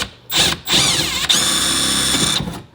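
A power drill bores into a Corvette C6 body panel, whirring up close and loud, with a couple of short bursts before a longer, steady run that winds down at the end.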